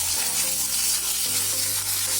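Ginger paste sizzles and spatters in hot oil, a loud, continuous hiss with crackling bursts, close up and heard without any talking.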